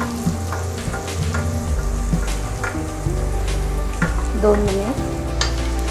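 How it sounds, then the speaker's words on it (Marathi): Spices, mint leaves, coriander and rice sautéing in a pan for a spiced rice dish, giving a continuous loud sizzle with crackling pops and the scrape and knock of stirring, while a voice speaks briefly over it. "परतून घेऊया"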